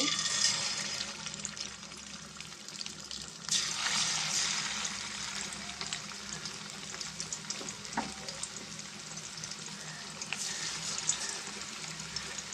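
Fish pieces frying in hot oil give a constant crackling sizzle, close and moderately quiet, with occasional louder spits and stirring bumps throughout and no talking.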